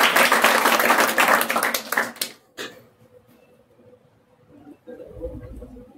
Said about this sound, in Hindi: सब लोग थोड़ा सा ताली से स्वागत करेंगे